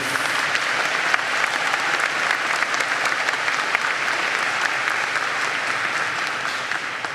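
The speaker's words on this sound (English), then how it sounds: "Audience, give the graduates a round of applause for all they've done, would you?" Audience applause for graduates at the UMBC spring 2016 graduate commencement ceremony: a large crowd clapping in a dense, continuous roar at a steady level throughout, with no talk over it.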